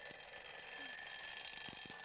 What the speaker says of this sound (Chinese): 接下来呢，我们就要请老师啊跟我们一起量量看到底闹钟有几分贝呢。